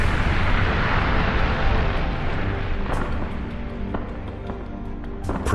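Continuous heavy rumbling blasts with booming bursts and sharp crackling impacts, loud and dense throughout with no pauses.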